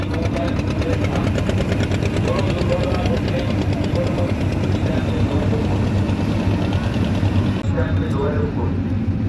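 A boat's engine at a river ghat during a village fair, a loud, steady drone with a rapid rhythmic chugging, running continuously throughout and cutting slightly near the end.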